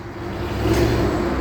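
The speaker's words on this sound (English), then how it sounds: "That's the rear U-joint, non-serviceable U-joint." A pickup truck with a worn, original rear U-joint on a non-serviceable driveline, at about 170,000 miles, makes a loud continuous drone that rises in the middle, close by, with no talking.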